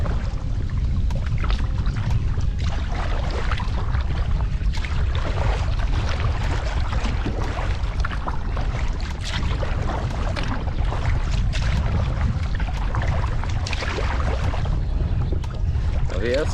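Cold wind roars across open water as choppy waves slap and churn, a steady, close rush of gusts buffeting the microphone with no letup.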